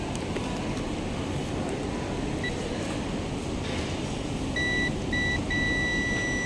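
A multimeter continuity test on a Mercedes-Benz CLS W218 part gives a thin electronic beep, first a brief chirp, then a steady tone in three close pulses, over a constant hum of background noise.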